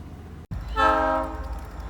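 A freight train led by SD40 locomotives arrives, its horn sounding a loud sustained chord after a brief dropout, with rumbling rail noise underneath.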